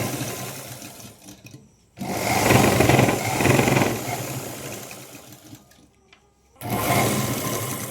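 A sewing machine stitches the seams of a Punjabi dress in loud whirring runs, with a short pause and a longer pause between bursts of stitching.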